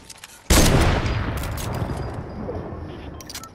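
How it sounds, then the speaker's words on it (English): Loud gunfire erupts suddenly in a Fortnite match, a sharp blast followed by a long rumbling decay as shots target trees, with faint background noise before it. "They're shooting trees down."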